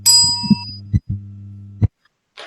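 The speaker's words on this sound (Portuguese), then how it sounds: "Com sininho, eu vou até falar pra vocês, o sininho aqui, ó." A small bell gives one bright, close ding that fades quickly, followed by a few low dull knocks and clunks.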